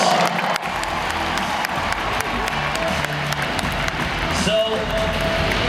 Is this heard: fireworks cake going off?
no